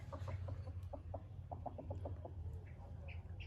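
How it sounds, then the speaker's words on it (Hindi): Rooster and hen in Multan, Pakistan cluck in short repeated bursts, with a low steady hum underneath and a few faint higher chirps toward the end. "ये मुर्गा और मुर्गी, जितना तारीफ करें कम है"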